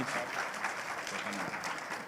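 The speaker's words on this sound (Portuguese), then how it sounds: "pedir uma salva de palmas" Applause from the audience at a Portuguese-language tech talk on end-to-end testing, thanking the two speakers: a steady, dense wash of clapping through the whole moment, moderately distant and fairly quiet.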